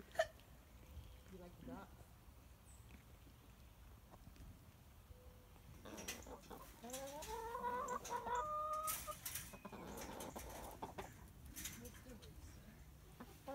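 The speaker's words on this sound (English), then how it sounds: "What do you think of the chickens?" Chickens cluck and chatter on a residential farm, scattered calls building into a busier burst midway, with people talking nearby.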